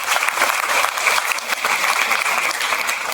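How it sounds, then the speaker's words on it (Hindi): Loud congregational clapping at a Christmas church celebration, a dense, even roar of many hands applauding close by, sustained throughout without spoken voices. "जोरदार ताली बजाइए प्रभु के लिए"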